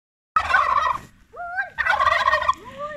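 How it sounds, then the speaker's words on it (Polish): Domestic turkeys on a farm gobble loudly and close by in two dense bursts, with shrill rising and falling calls from the flock in between. "Idę do nich, wam pokażę te indyki."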